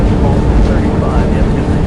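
An Airbus A380's jet engines roar at takeoff thrust in a loud, steady, broadband rumble, with a voice talking over it.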